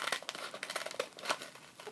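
Scissors cut open a plastic bag in a run of dense crinkling and tearing rustles, with a few sharper snips standing out, close and fairly quiet with no talking.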